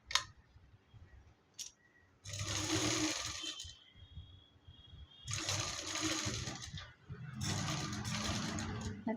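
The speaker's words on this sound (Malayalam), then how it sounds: "എന്നിട്ട് ഇങ്ങനെ ചുറ്റും തയ്ച്ചെടുക്കുക." A sewing machine stitching around a baby frock runs in three loud bursts of rapid, whirring needle strokes, separated by quieter pauses with small clicks and fabric handling, close up and without talk.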